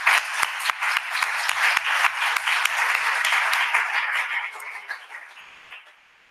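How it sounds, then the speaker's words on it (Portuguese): An audience claps at a talk on Galician translation, a dense burst of applause that holds steady and then thins out toward the end. "Un aplauso primeiro, muy bien."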